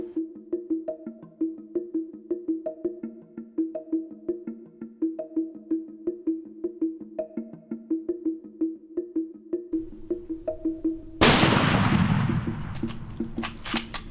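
A single loud, sharp gunshot fired at an animal during an African hunt, cracking out suddenly near the end and trailing off in a rough decay after a stretch of steady rhythmic tonal background.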